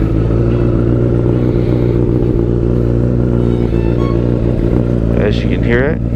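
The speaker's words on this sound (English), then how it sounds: "let me turn on this bike for you guys" A 2014 Honda CBR1000RR sport bike idles steadily after starting, a loud, close, even engine rumble with a brief revving burst near the end.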